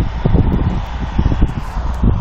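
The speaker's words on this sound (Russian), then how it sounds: "Сильный ветер." Strong wind buffets the microphone outdoors, a constant low roar with rustling gusts rising and falling, and no one speaking.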